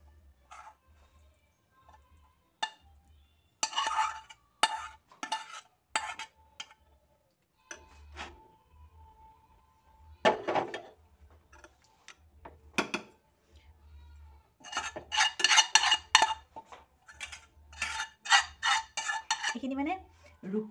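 Coriander leaf chutney scraped and spooned into a container, with scattered clinks and scrapes of metal utensils against dishes in short, irregular bursts between quiet pauses.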